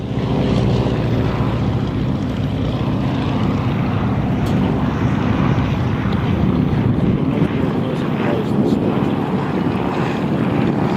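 A de Havilland Canada-built Tiger Moth biplane flies at an air show, its propeller engine droning loudly and steadily throughout, mixed with heavy wind rush on the microphone.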